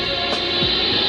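Steady hissing static and hum from the Horn Antenna radio telescope, picking up constant interference and the cosmic background signal, continuous and unchanging with no voices.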